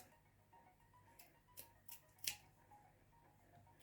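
Scissors cutting curtain fabric during a curtain alteration, heard as a few faint, sharp snips spread across a quiet room with no talking.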